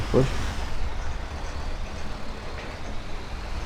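A cement truck in GTA 5 drives with a steady, low engine rumble that continues through the whole stretch, with a brief brighter burst near the start.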